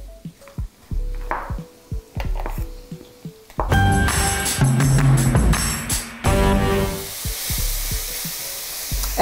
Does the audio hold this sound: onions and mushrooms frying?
yes